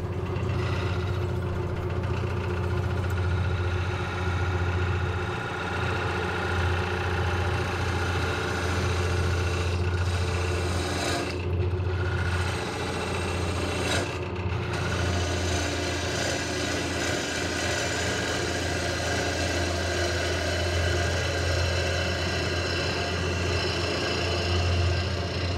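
A lathe turns a mulberry wood bowl with a steady, loud, continuous hum as a tool cuts the wall down thin, with a couple of brief dips in the sound partway through.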